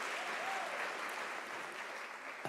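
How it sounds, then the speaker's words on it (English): Spectators at a university graduation ceremony applaud, a broad, even roar of clapping from a large crowd, heard at moderate distance and sustained throughout without talk. "Can we give an applause to that?"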